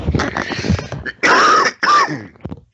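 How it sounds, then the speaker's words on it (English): A person clears their throat and then gives two harsh, close coughs, each separated by a brief pause. "Excuse me, I'm going to cough."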